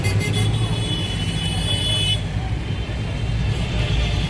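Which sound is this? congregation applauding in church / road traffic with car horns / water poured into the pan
road traffic with car horns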